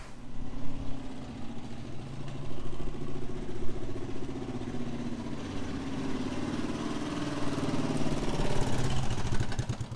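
A Kawasaki KLR250 motorcycle engine runs steadily on a test ride after carburetor adjustment, a continuous moderate drone with slight shifts in pitch and load, no talking heard.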